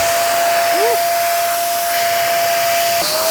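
A large 24-inch BoBo balloon being inflated, likely by a pump or blower, giving a steady loud airy hiss with a constant whining tone that runs throughout and briefly dips near the end.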